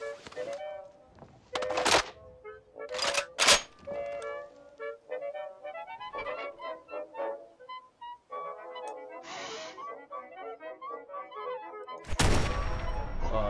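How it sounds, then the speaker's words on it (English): Mechanical thunks and clicks as a Sturmgewehr 44 rifle is loaded in Fallout 4, a few sharp metallic hits spaced out over a soft musical game background, ending with a louder burst. "Load the weapon."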